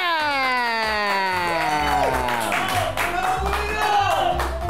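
A studio audience at a variety program applauds for a cumbia singer, dense clapping and cheers under a loud sweeping tone, steady and close throughout.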